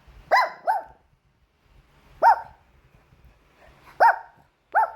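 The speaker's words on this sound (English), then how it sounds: "What you barking at?" A dog barks sharply in spaced bursts, a quick double bark followed by two single barks, loud and close in an otherwise quiet room.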